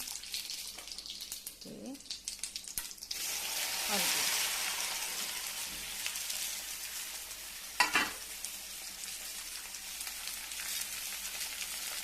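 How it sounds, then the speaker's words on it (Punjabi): Cumin seeds and a pinch of ajwain tossed into hot mustard oil in a pan, a bright sizzling hiss that swells and fades with a few stirring scrapes, close-up. "ਹੁਣ ਤੇਲ ਚ ਜਾਏਗੀ ਥੋੜੀ ਜੈਨ ਥੋੜਾ ਜੀਰਾ"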